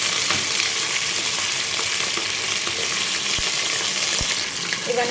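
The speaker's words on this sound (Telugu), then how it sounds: "ఇప్పుడు ఉల్లిగడ్డ మంచిగా మగ్గనివ్వాలి" Sliced onions with mint and green chillies frying in a pan for pappu charu, a steady close hissing sizzle with faint stirring scrapes throughout, no talk.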